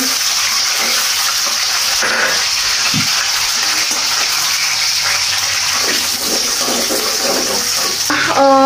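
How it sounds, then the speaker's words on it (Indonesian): Jengkol pieces fry in hot oil for a simple home meal of salted squid and green chilli, making a loud, steady, close sizzle with a few small pops. "Minyaknya udah panas, kita goreng jengkol dulu."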